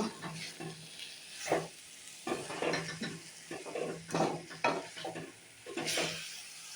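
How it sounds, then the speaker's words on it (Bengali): White sesame and coconut mixture stirred in a pan, producing repeated scraping strokes with a faint sizzle beneath, close and fairly quiet, in an irregular rhythm. "তিলটা ঢেলে দেওয়ার পর এবার ভালো করে নাড়াচাড়া করে দেবো"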